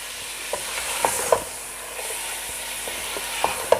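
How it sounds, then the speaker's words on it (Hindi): Long-cut tomatoes, chicken and spices fry in a pan for a chicken pulao: a steady, close sizzle with a few sharp stirring scrapes and taps, no voices. "ये 2 अदद टमाटर मैंने लंबे लंबे काटे हैं, वो जाएंगे, ताकि मसालों के साथ ही अच्छी तरह चिकन और मसाले भुन जाएं"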